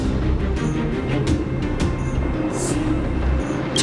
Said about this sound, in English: Do Fragmentum monsters usually sound like this?